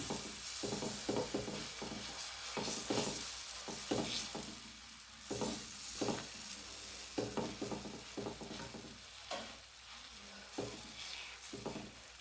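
Ragi and banana fritters sizzling in ghee on a hot pan, with a steady frying hiss broken by repeated scraping and spatula strokes at irregular intervals, close up and with no speech.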